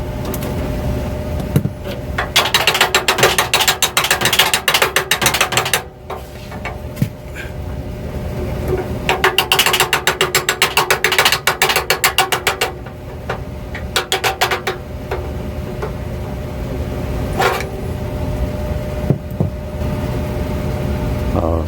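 A ratchet fitted with a 1/4 inch socket works on a home air conditioner unit, giving rapid bursts of dense clicking that start and stop repeatedly over a steady background hum, loud and close with no talking.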